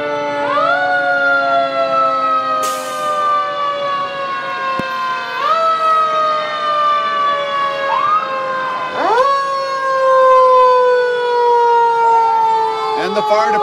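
Several fire truck sirens wail loudly at once in a Christmas parade in Wells, Maine, rising and falling in overlapping sweeps with a brief horn blast, continuous and close.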